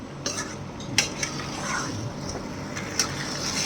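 An elephant foot yam cutlet mixture is fried dry in a pan with a low, steady sizzle. A utensil stirs and scrapes through it, knocking against the pan a few times.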